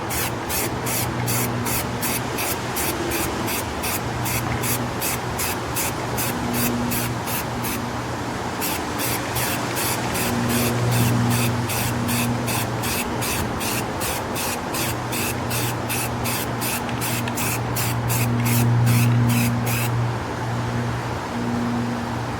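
A spray can lays a light dust coat of paint on a Telecaster guitar body, giving a continuous close hiss in rapid pulsing passes with a brief pause partway through, over a low background hum.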